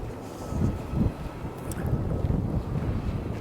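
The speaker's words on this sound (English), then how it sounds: "Quite a wind blowing right here." Wind blowing hard on a city street along Spring Garden Road, a continuous loud rumbling gust buffeting the microphone, with no talk.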